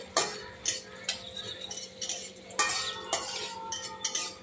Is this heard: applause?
no